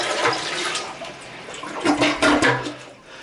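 Roughly 2.5 gallons of water poured from a 5-gallon bucket into a toilet bowl, a loud, continuous rushing and gurgling splash lasting about three seconds, swelling near the end with no voices.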